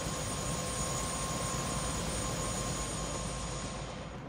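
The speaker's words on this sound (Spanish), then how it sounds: "creo que es un helicóptero automático" Automated helicopter in the video game Prey, flying with a continuous whirring engine and rotor hum that stays steady throughout and eases off slightly at the very end, with no speech.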